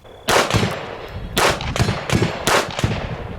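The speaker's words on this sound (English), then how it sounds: "we're going to start out with 22 long rifle using a Smith & Wesson M&P 22 compact, and just go ahead and shoot it in" A Smith & Wesson M&P 22 compact fires .22 LR rounds into a training dummy, giving four sharp, loud, close shots at uneven spacing, each one followed by a brief ring.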